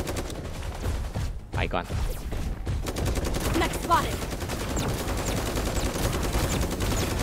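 Rapid gunfire from the Super Mecha Champions battle royale game, a loud continuous stream of close automatic shots filling the whole clip, with someone talking briefly over it.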